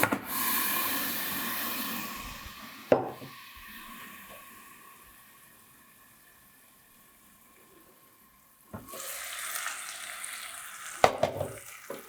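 Sauce poured into a hot pan of toasted fideos, bursting into a loud sizzle that fades under a closed lid to a quiet hiss, then a sharp clack as the lid lifts and the sizzling swells again.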